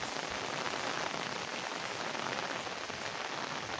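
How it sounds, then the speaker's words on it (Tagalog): Steady, dense rain pours down outdoors on a farm with rice and maize fields, a loud, even hiss of drops hitting surfaces with no pauses and no voices. "Ayan, basa na ako ng ulan."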